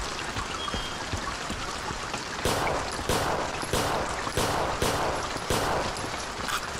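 Gunfire in the Zompiercer zombie shooter while the player runs, a series of sharp shots spaced roughly half a second apart over a steady rushing background.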